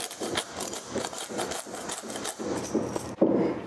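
Citrus zest being grated for a baked spinach and artichoke dip, a steady rhythmic rasping of repeated close strokes with a louder scrape near the end.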